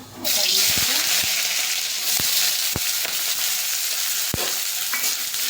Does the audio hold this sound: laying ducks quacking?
no